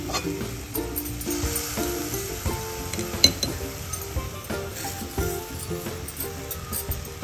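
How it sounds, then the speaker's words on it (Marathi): Sugar goes into roasted semolina sheera in a pan and sizzles steadily, with scattered clinks and scraping from stirring throughout. "आता आपण यामध्ये साखर घालून घेऊया 1 वाटी।"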